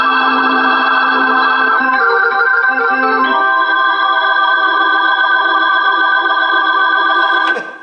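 A Roland FP-E50 digital piano holds sustained organ chords with a tremolo effect, the tone pulsing and wavering as the chord shifts partway through, loud and close, alone without speech.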